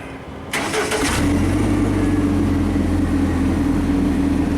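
A JLG lift engine on a construction site is started: a brief starter crank lasting about half a second, then the motor catches and settles into a steady, loud, low idle hum nearby.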